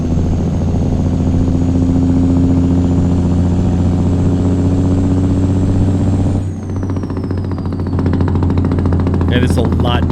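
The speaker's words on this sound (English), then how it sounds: "this one, for me, feels like what I hear a lot of Jake brakes around where I live" A Zeemods Cummins N14 diesel engine with its Jake brake running, a loud, steady harmonic drone that stays constant for several seconds, then drops and shifts pitch as it winds down, with a faint rattle near the end.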